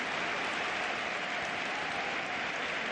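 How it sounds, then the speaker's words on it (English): A stadium crowd of home football fans applauds after a goal, a broad continuous roar of clapping that holds steady and loud. "And I think there's even applause from the home fans"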